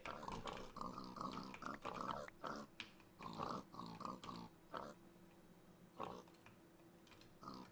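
Pigs in the Minecraft video game, repeated short oinks and grunts in uneven clusters, moderately loud and packed close together, with a few quieter gaps.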